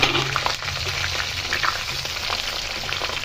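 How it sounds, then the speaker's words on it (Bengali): Pointed gourd frying in white oil in a wok, a loud close sizzle with bubbling, watery crackle throughout the short stretch. "এবার এটা আমি ভেজে নেব।"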